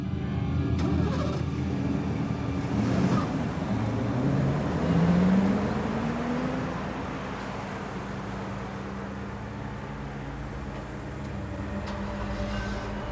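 A Mercury Cougar car is driven off, its mid-pitched engine humming steadily and rising slightly as it pulls away, then settling into a softer, distant drone with no voices.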